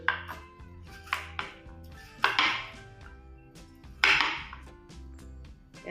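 A knife cuts through muskmelon on a board with a few distinct sharp chops and knocks against dishes, close and clear, spaced irregularly over steady quiet background music with no talk.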